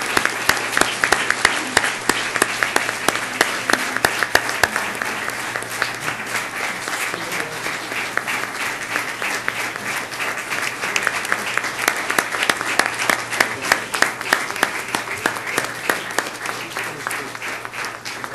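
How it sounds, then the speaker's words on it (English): Sustained applause from a large crowd in a legislature session, steady and fairly loud throughout, with no voices breaking through. "how about a big round of applause for Joanne and her family?"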